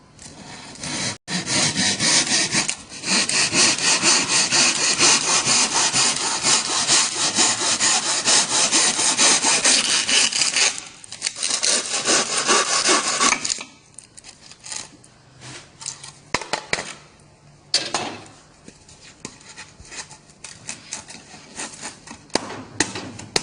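A saw cuts steadily through insulation half shells at a marked line on a straight pipe insulation joint, a loud continuous rasping stroke that later turns into sparser, intermittent scraping.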